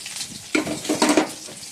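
Paneer and potatoes fry in hot oil, giving a short soft sizzle with a few stirring scrapes and crackles close by, no talking.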